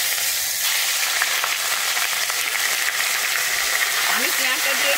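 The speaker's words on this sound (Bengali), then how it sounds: "আমি পেঁয়াজটা দিয়ে কিন্তু খুব ভালোভাবে এখানে ভেজে নেবো পেঁয়াজটাকে" Coarsely ground onion paste frying in oil with black cumin, a dense continuous close sizzle, with a person talking over it.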